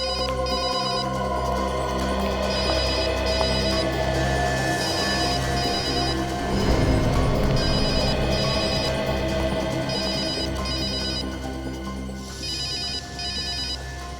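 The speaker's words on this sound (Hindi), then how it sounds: "फोन कहाँ बज रहा है?" A telephone rings continuously in repeated electronic bursts, loud and steady, over a dense background hum.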